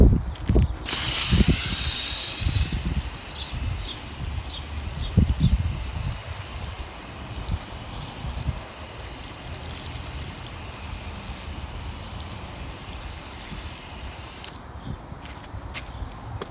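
Irrigation water sprays and trickles steadily over an outdoor onion bed in April, a continuous hissing wash with a few louder splashes early on and no talk.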